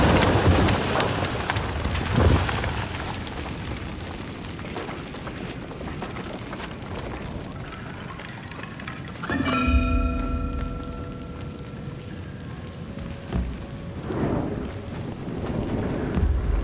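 Steady rain and rumbling thunder in the video game Trek to Yomi, a continuous wash of rainfall with a low thunder roll and a brief metallic ringing tone partway through.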